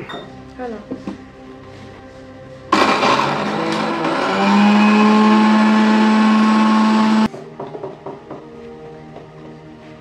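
A mixer grinder runs for about four and a half seconds while Khandeshi village chicken is being cooked, starting abruptly and then settling into a loud, steady whine. People talk before it starts and after it stops.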